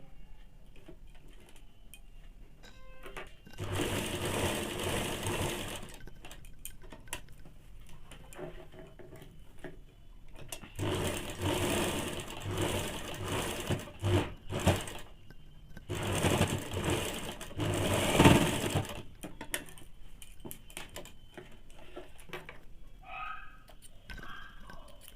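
A sewing machine double-stitches baby panties in three long, steady runs separated by quiet pauses with faint handling, close and clear.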